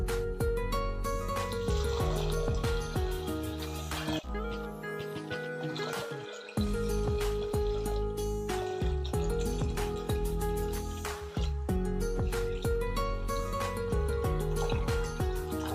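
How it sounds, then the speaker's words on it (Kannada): Water poured from a glass into a pot of rice and lentils for khara pongal, with a steady close liquid splash and gurgle running for most of the stretch, a brief break midway, and no talk. "ನಾವೊಂದು 4 ರಿಂದ 5 ಗ್ಲಾಸ್ ನೀರು ಹಾಕೋಣ ಈಗ ಇದಕ್ಕೆ."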